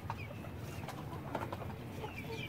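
A flock of chickens kept on a rooftop clucking softly and intermittently amid faint background noise, with short scattered calls at low volume.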